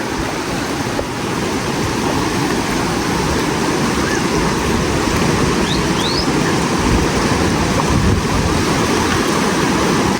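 Cold glacier river in the Kashmir mountains rushing steadily while being crossed on foot with donkeys, a loud unbroken roar of flowing water with a few faint bird chirps above it.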